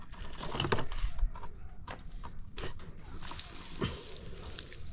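Water poured from a container splashes and sloshes into a vegetable garden bed, several uneven splashes and trickles close by, with a faint voice in the background.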